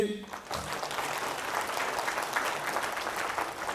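A church congregation clapping together during a worship service, a dense, sustained burst of applause filling the hall from just after the start, with a voice audible over it.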